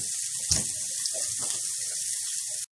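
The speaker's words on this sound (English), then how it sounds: "I'll rinse my hands." A kitchen tap runs steadily as hands are rinsed under it after cooking, a continuous close hiss of water lasting a few seconds with a slight splash near the start before it shuts off.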